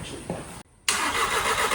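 An Audi car with a swapped-in manual transmission, heard close up as its engine cranks, drops out for a brief gap, then catches and runs at a steady loud idle.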